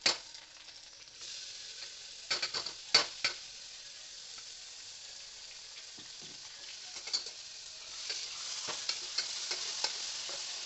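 A steady sizzle of tomato, chilli and garlic paste frying in a pan for biryani, with occasional sharp clinks and scrapes of stirring, close and continuous.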